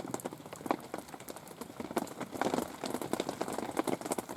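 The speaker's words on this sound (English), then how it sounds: "Constant fucking rain." Steady rain falls on a lake during a carp fishing trip in France, dense pattering drops hitting close surfaces with uneven bursts, continuous and moderately loud without talk.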